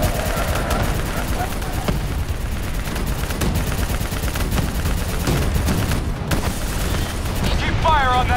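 Sustained turret machine-gun fire in the Call of Duty: Black Ops 3 campaign, a dense unbroken rattle of rapid shots with booms and explosions mixed in and shouted voices under it.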